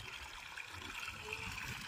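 Irrigation water streams steadily across a wheat field, a continuous close trickling and gurgling wash with faint talk underneath.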